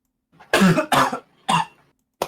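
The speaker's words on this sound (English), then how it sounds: "This dang flippin' cough" Four harsh coughs, three close together and a short final one after a pause, loud and near with no talking.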